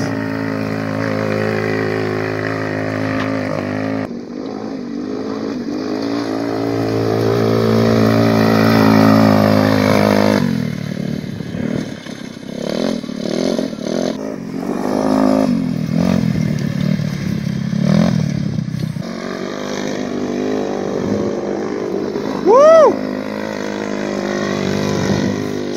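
A Tao Tao Targa 200 go-kart engine revs while riding, a loud, close buzzing motor that climbs and drops in pitch through repeated throttle changes, with brief breaks between surges.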